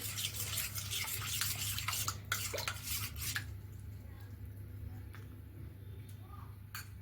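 Gram flour batter for khaman dhokla being stirred in a bowl, with a steady scraping, sloshing churn and a few clinks of the spoon that grow quieter after the first few seconds, over a low background hum.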